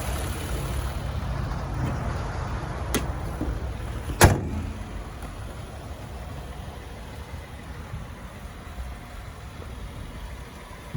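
A 2020 Toyota Sienna 8-passenger minivan idles smoothly and steadily under an open hood, a low continuous hum broken by a couple of sharp clicks and a brief thump.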